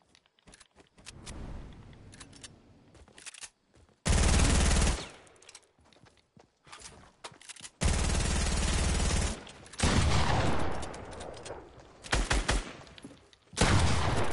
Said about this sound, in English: I missed all of my shotgun shots!